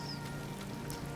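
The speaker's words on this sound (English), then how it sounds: "the rain is kind of nice" Steady rain falling in the video game Disney Dreamlight Valley, a soft continuous hiss of drops at low level with a faint low hum beneath and no voices.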